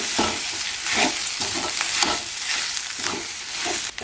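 Spatula stirring chopped banana stem with spices in a hot pan, repeated scraping strokes over a continuous sizzle, close and fairly loud, no speech.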